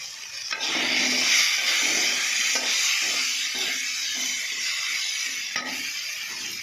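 Turmeric and chili powder hit a hot pan and sizzle, a steady bright hiss that swells early and slowly eases, with a few faint clicks, close and without talk.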